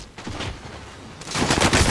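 Rapid gunfire in a Call of Duty Warzone firefight, bursts of close automatic shots rattling in quick clusters, briefly easing before a louder volley at the end.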